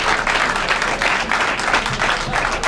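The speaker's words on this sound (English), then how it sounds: "The thundering round of applause you just heard is from Efren Reyes winning his first game" Loud sustained applause from a crowd at a pool tournament, dense clapping that fills the room, with faint voices mixed in.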